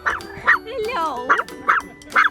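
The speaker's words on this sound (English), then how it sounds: "the chihuahuas are making a fuss" Chihuahuas bark in short, high yaps, five or six quick barks mixed with a whiny yelp, close by and fairly loud on an outdoor walk.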